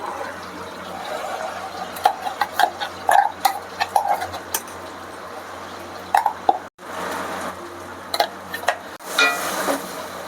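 Masala paste frying in butter in a pan for Mughalai egg curry, stirred close up: scattered soft plops and scraping clicks of the spoon over a low steady sizzle.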